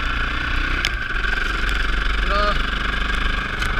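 Trials motorcycle engine climbing a steep, slippery dirt slope in third or fourth gear, a steady loud drone held close throughout with no pauses.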